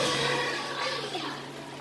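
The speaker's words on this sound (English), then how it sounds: "Okay, all the gravy pour over it." Gravy poured from a container over a tray of fried Thanksgiving turkey, a steady close-up splashing pour of liquid that runs for under two seconds.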